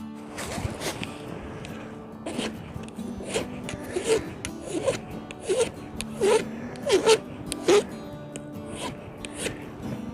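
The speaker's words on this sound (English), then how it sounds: "you should always have a file in camp with you for sharpening your tools" A hand file rasps against an axe blade in a camp setting, giving short scraping strokes in an uneven rhythm, close and fairly quiet.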